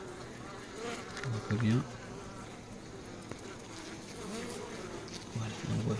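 Honeybees buzz steadily over an open hive's brood frame in an apiary, a dense nearby hum with individual bees swelling past the microphone, while a person speaks briefly and softly.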